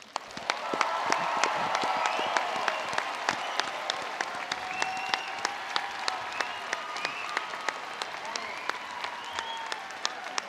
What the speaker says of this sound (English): why don't we celebrate with a giant round of applause the newest graduates in the universe?